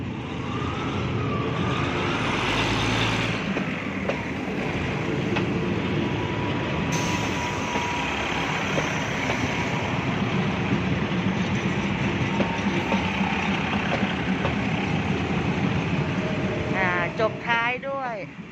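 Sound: train arriving

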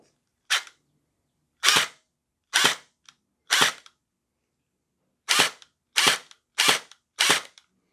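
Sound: Splatrball gel blaster firing after metal gear upgrade

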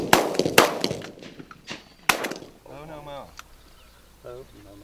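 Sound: shotgun shot at pigeon

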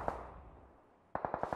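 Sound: gunfire in a battle royale video game

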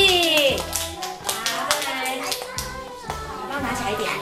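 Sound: applause for a child candidate

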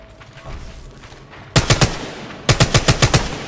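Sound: gunfire in the video game Apex Legends Mobile

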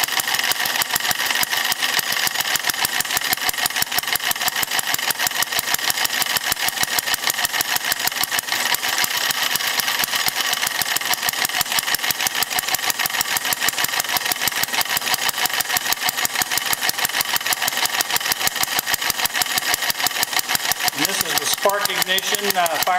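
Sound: vertical single-cylinder four-stroke spark ignition engine running under load

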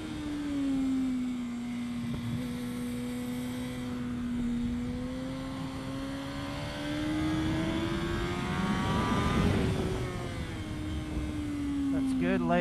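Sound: motorcycle riding on race track at Winton Raceway

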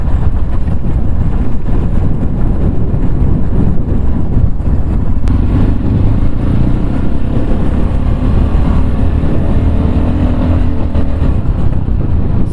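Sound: Tekken 250 motorcycle coasting in neutral, then throttle

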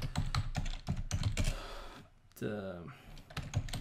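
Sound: typing on a computer keyboard

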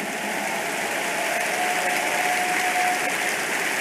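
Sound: congregation clapping in praise

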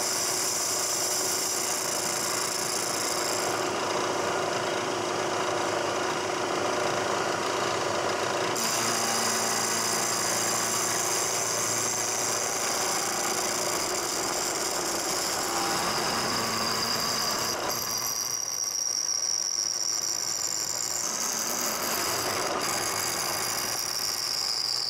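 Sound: milling chilled casting with a carbide end mill

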